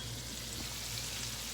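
Blue claw crab pieces sizzle in frying oil as a soft, steady hiss sprinkled with tiny crackles, low in level and unbroken, with no voices.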